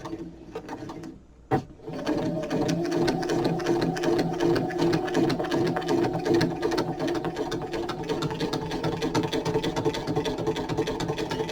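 A sewing machine fitted with a thick leather needle runs steadily through a leather pen case, stitching about a quarter inch from the edge. After a brief start and pause, a loud, continuous mechanical whir and rapid needle clatter follow, with no talk.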